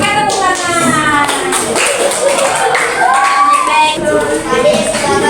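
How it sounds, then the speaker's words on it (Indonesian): A class of children claps in a busy patter of hand taps, with young voices calling out over the clapping. "Oke, tepuk tangan."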